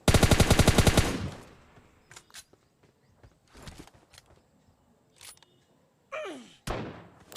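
Rapid automatic gunfire from a battle royale video game opens loudly, followed by scattered single shots, thuds and footsteps at varying distances.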